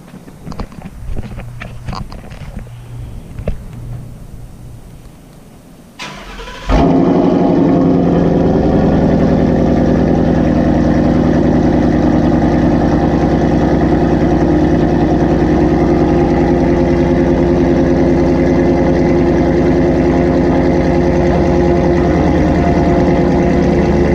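After several seconds of quieter mechanical noise, a 2017 Ford Mustang GT V8 engine with a Corsa extreme cat-back exhaust fires up loudly and settles into a deep, steady, rumbling idle that continues without pause.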